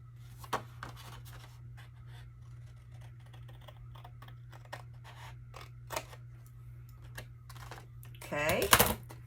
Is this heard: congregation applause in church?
no